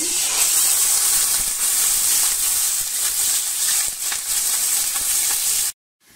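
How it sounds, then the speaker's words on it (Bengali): Chopped onions fry in hot oil in a pan, making a loud, steady hiss and sizzle up close that continues without a break until it cuts off abruptly near the end. "পেঁয়াজ কুচি দিয়ে দেব"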